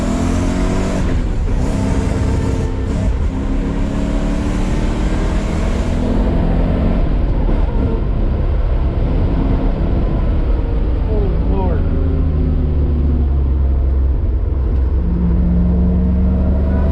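A supercharged Toyota Supra accelerates with its engine revving loudly from inside the car, and the pitch climbs and drops through gear changes while people talk over it.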